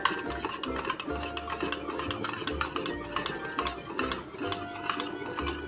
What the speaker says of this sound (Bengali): আমি এর মধ্যে আরেকটু দুধ মিক্সড করে নিচ্ছি ভালো করে নেড়ে নেব